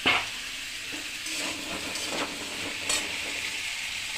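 Tomato and green chilli fry in a pan with other vegetables: a steady, close sizzle with soft stirring scrapes and a brief louder hiss near the end. No one speaks.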